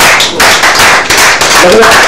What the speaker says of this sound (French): je l'applaudis s'il vous plaît